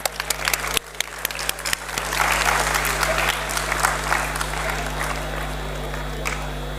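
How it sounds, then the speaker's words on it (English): A university startup ideathon audience applauds a professor called to the stage, beginning with scattered individual claps that build into fuller, sustained clapping over a steady electrical hum. "Please give him a round of applause."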